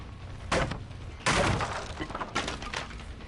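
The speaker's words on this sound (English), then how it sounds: "Guess he decided now was a good time to drop a pallet." A pallet drops in the video game Dead by Daylight, heard as three sharp crashing impacts: a short bang, a bigger splintering crash, then a lighter knock, each trailing off quickly.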